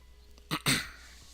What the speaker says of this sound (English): I keep having to clear my throat